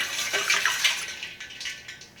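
Salted ice water stirred in a large bowl, soft sloshing and swirling splashes coming in uneven bursts, close and moderately loud.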